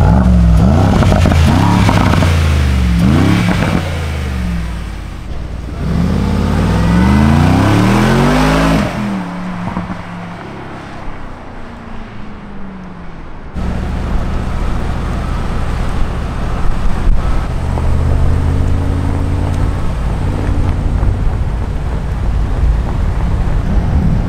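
An expensive SUV accelerating hard from 0 to 100 in 4.1 seconds, its engine rising through several gears with swooping pitch climbs and brief drops at each shift, then a loud steady roar of road and wind noise; close and very loud.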